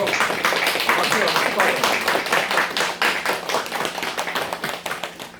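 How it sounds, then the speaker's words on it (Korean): A church congregation claps together in welcome of new members, a dense run of brisk, even hand claps that carries on steadily for several seconds before thinning out. "여기 선물은 이렇게 우리 박수로 한번 환영하도록 하겠습니다"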